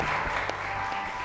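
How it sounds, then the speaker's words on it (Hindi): A studio audience at a TV show applauds for two sisters. The clapping is dense and steady and fills the whole moment at an even level. "दोनों बहनों के लिए बहुत सारी तालियां।"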